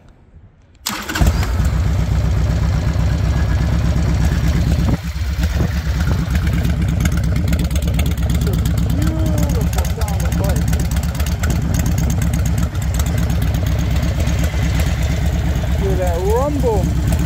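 A 2002 Harley-Davidson Sportster engine starts, then settles into a loud, steady rumbling idle close by. A person talks over it.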